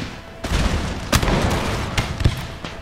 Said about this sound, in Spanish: Evidentemente ahí devuelven los disparos